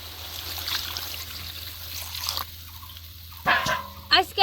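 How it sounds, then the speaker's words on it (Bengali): Water is poured and trickles into a cooking pot of river fish with chopped gourd stems, a soft, steady splash that fades after a couple of seconds; a voice briefly talks near the end. "এখন আমি অল্প পরিমাণে জল দিব।"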